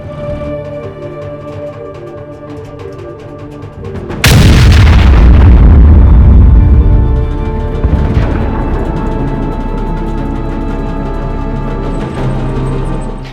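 Cartoon tank cannons firing shells: a single huge boom strikes suddenly, then a long rumbling roar rolls on and slowly fades under a steady background.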